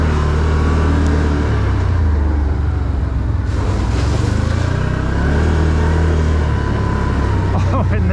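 An ATV engine hums and revs steadily as the quad rolls along a forest trail and across a bridge, loud and close throughout, with the motor pitch shifting as it climbs.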